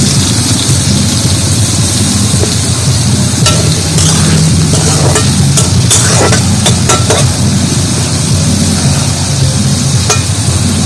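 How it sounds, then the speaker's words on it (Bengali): Boiled potatoes fry in a pan for a kalmi greens dish, giving a steady, loud sizzle with scraping stir noises throughout and no talk. "আর একটু ভালো করে ভেজে নেবো আলুটা।"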